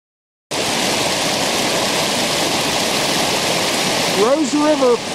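The Rose River, a trout stream, flows with a loud, steady rushing roar that starts abruptly and holds constant, with a brief voice or bird-like tonal chirps rising near the end.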